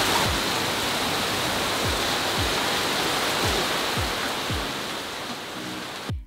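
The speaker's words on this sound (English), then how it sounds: "And it's raining." Rain falling steadily outside a hotel balcony in Stone Town, Zanzibar, a dense continuous hiss with a few soft low thumps, fairly close and alone without talk.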